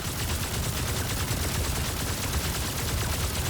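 Rapid gunfire from a charged weapon in the video game Remnant 2, a dense continuous stream of quick shots at even volume with no pauses, no talk.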